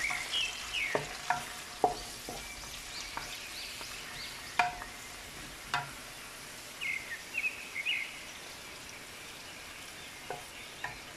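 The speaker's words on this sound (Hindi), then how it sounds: "ये प्याज, प्याज को ब्राउन करूंगा" Onions brown in oil for rice with a soft, continuous frying hiss, punctuated by scattered scrapes and clacks of stirring, and faint bird calls in the background.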